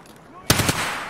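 Gunfire in the video game Escape from Tarkov: a short burst of three or four rapid, loud shots in quick succession after a quiet moment, then a fading echo tail.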